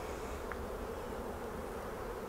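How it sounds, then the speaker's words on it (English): Honey bees humming steadily in an open hive over brood combs, a dense close buzz with no pauses and no voices. "the bees are busy on the middle 5 combs or so with laying"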